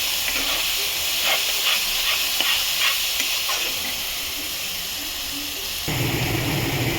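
Garlic paste fries in a pan for mutton kosha, a steady bright sizzle and hiss with a few scraping stirs partway through, then a fuller burst of frying near the end.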